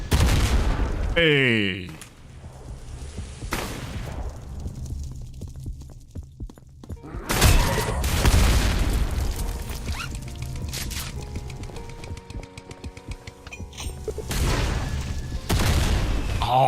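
Rocket launcher blasts in a modded Doom game, several loud explosive booms spaced a few seconds apart over droning background music, with a brief spoken exclamation early on.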